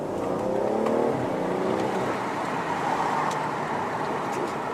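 A BMW M760Li V12 accelerates hard while overtaking, its engine note climbing sharply in pitch at first, then settling into a loud, sustained roar with road noise.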